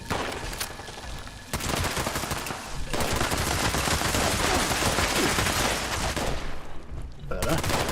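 A laser rifle fires in the game Fallout 76, dense rapid bursts of gunfire almost continuous over several seconds with brief gaps, loud and harsh, with a voice faintly underneath.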